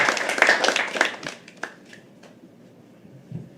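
A live audience at a poetry open mic claps loudly for a moment, then the applause thins out into a few scattered claps before fading to near quiet, with one last faint clap at the end.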